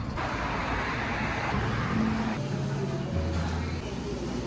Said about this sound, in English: I'm sure you can hear there's so much road noise